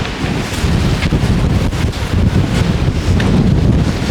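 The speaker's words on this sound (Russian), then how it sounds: "Нормальная погода, но из-за этого ветра терпеть не могу." Strong wind blusters steadily across the microphone on a Siberian village morning before a hurricane, a loud, continuous low roar with gusty surges and no talking.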